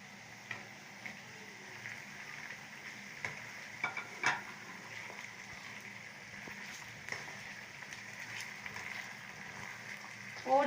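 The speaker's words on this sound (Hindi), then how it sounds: "और चिकन को कलर चेंज होने तक पकाऊंगी।" Chicken fries in a pan with onions, cloves and a piece of cinnamon, giving a faint, steady sizzle broken by soft scrapes and clicks of stirring, with no talking.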